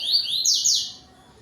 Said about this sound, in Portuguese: coleiro bico amarelo. Ele dá um cante tuí-tuí bonito, de vez em quando ele dá uma campainha